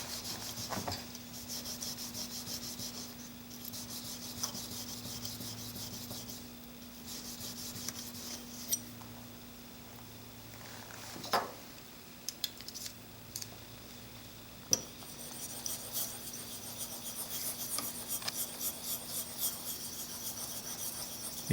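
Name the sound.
sharpening a Blum plane blade on a stone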